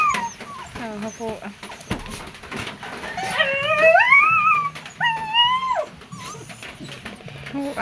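Pet dogs whimpering and yipping with rising, whining cries, close by, while people talk underneath; the excited sounds come in a few short bursts, and no clear bark stands out.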